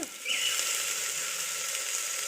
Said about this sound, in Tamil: இப்போ நம்ம ஒரு கரண்டி வச்சு நல்லா வதக்கிக்கோங்க வெங்காயம் நல்லா வதங்கட்டும்